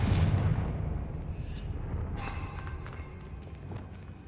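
A Confringo blasting spell cast in Hogwarts Legacy at a witch's sarcophagus erupts as a heavy, booming blast at the start, then rumbles and fades away with small crackling debris afterward.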